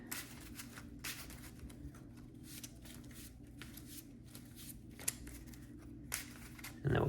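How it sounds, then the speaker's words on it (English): A deck of Cyber Dragon trading cards is shuffled by hand, making a rapid, regular riffling patter of card edges that runs steadily and fairly quiet, close by with no voices. "we'll shuffle since we were going through it a lot"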